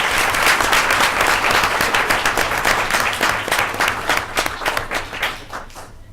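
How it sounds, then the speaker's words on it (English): A round of applause fills a school board meeting honoring elementary school certificate recipients, dense clapping from a room of people that holds steady at first and then thins and fades toward the end. "How about one more round of applause for these?"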